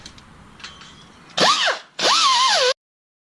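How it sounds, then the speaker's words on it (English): An angle grinder cleaning a car wheel hub during a front brake rotor replacement on a Chrysler Concorde: two loud, close bursts of high whirring grind, the second longer, after faint background clatter, then abrupt silence. "I'm gonna go and clean this hub up as best as I can using my grinder."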